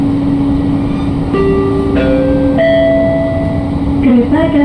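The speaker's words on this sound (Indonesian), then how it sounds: "Kereta akan tiba di Cawang." An LRT Jabodebek train arrives at Cawang station, heard from inside the car as a loud steady rumble with electric motor whines stepping up and shifting in pitch.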